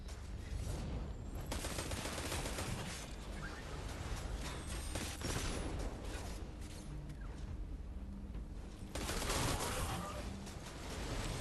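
Gunfire in the Destiny 2 video game, aimed at an enemy's glowing shield, crackles as dense, continuous bursts with mechanical clatter and swooshes, loud and steady throughout with a brighter surge near the end.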